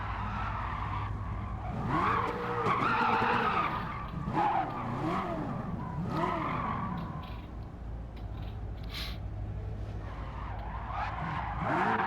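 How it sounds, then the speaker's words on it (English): A car in the Gran Turismo 7 racing game, an old Nissan fitted with a 1200hp twin-turbo LS7 V8, skids with wavering tyre squeals and engine drone, and the squeals rise and fall several times before easing off. "let's just crash into this guy"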